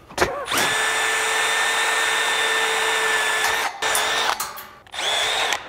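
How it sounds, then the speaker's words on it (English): A power drill bores out rivets while a quarter midget race car is being built, a loud sustained high whine that runs for several seconds, cuts briefly and then starts again. "when you're drilling all these out is you end up with the heads of all the rivets on your drill bit"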